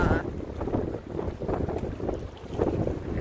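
Strong gusty wind buffets the microphone while canoeing on a backcountry lake, a continuous rough rumble with surging gusts and faint water sounds, close and loud.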